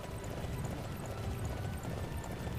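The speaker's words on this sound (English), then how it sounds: "And these horses were awesome." Horses gallop in the Dynasty Warriors 9 video game, a steady dense hoof rumble under constant broad noise with no pauses.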